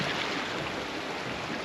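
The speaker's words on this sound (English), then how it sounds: "It's a peaceful little creek." Small creek in a rocky western canyon, water flowing in a steady, soft broadband wash with no breaks, close and even throughout.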